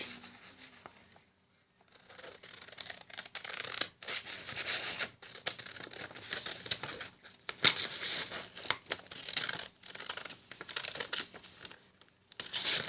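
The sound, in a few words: cutting paper along the edge for a paper boat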